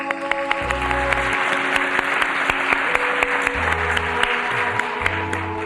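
Listeners at a University of Georgia lecture by Kwame Ture (Stokely Carmichael) break into applause: continuous hall clapping with sharp individual claps standing out, over a low steady hum.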